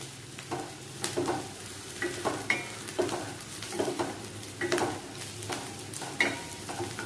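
Onion frying in a pan as curry leaves and chopped okra are stirred in for a Kerala ladies finger upperi, a steady close sizzle broken by repeated scraping stir strokes.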